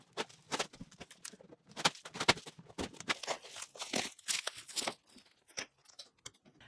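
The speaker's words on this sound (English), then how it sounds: "we felt confident enough to remove the tape from the outside of the joint" Strips of tape tear away from the outside of a cedar strip kayak joint in quick, ripping pulls, a close run of crackling peels and crinkles with short pauses between them.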